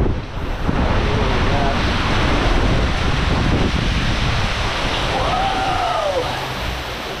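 Rough ocean waves surge and crash at a sea cave on the Maui coast, a loud continuous roar mixed with gusty wind buffeting the microphone.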